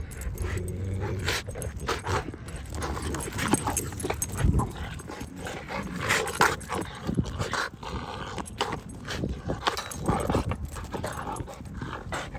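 Dogs moving and snuffling close by, with scattered growls and clattering noises over a steady background, no speech.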